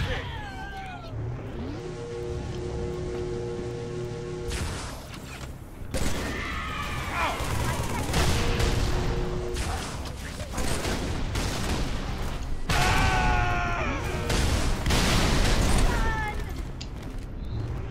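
Gunfire against shielded grunts in a Halo 3 remake mod on the Crow's Nest mission, clattering shots and mechanical bursts mixed with warbling alien chirps and squeals, loud and busy, with a voice talking over parts.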